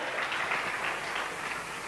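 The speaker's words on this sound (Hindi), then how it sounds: "हमारे विकास माँ गुरुजी के लिए जोरदार तालियां दोस्तों," Audience applause at a stage event, a brief steady wash of clapping heard at moderate volume without voices.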